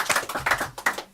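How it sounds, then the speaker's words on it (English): A small audience at a Texas songwriters' show claps together in a short, dense burst of applause, close and lively, fading near the end. "Everybody give yourselves a big round of applause"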